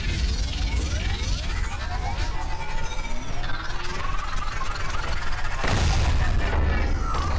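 Weapons fire at enemies in the VR shooter game Space Pirate Trainer, with dense, continuous blasts, booms and sweeping laser-like zaps layered over a loud rumbling background that swells near the end.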